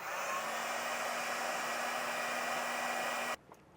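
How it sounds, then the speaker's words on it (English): Heat gun shrinking heat-shrink wiring connectors while installing an air suspension system on a 2019 Ford, a loud steady blowing roar with a constant whine that cuts off abruptly near the end. "Take our heat gun or heat source, shrink them up."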